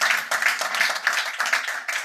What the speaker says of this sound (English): A round of applause for love over here